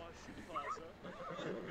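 A horse in The Sims 4 gives a short neigh and whinny, mixed in with game sounds and heavy talk running across the whole moment.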